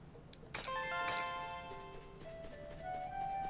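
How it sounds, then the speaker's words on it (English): A phone ringtone from an incoming call plays a clear, fairly loud melodic electronic tune of rising and falling notes that starts abruptly and keeps going to the end, with no talking over it. "I'm getting a phone call for some reason."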